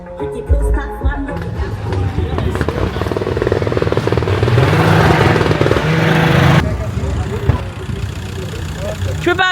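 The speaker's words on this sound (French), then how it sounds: "Tu peux pas attendre que le moteur chauffe un petit peu plus?" A Volkswagen engine running while it warms up at a VW gathering, a loud rough idle with a swell of revving in the middle, a voice talking close by over it.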